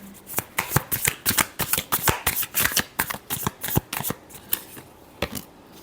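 Tarot cards are shuffled in a quick run of crisp, papery riffles and slaps, close and fairly loud, in an irregular rhythm that slows slightly toward the end, with no talking.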